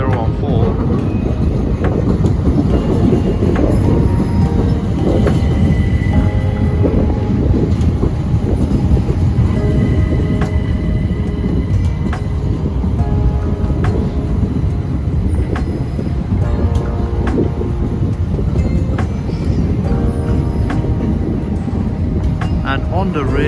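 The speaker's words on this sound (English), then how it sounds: "Arriving now is a terminating pair of Southeastern 376s." A pair of Southeastern Class 376 electric multiple units rolls into London Charing Cross as terminating trains, a loud steady rumble of wheels and motors with squealing brakes, while a voice talks over it.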